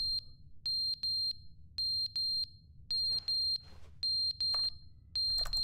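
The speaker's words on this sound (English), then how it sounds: "Hey, our smoke alarm's battery is low." A smoke alarm with a low battery sounds a rapid run of sharp, high electronic chirps. They come in short, regular bursts with brief gaps between them, close and clear over a quiet background, in an indoor game scene.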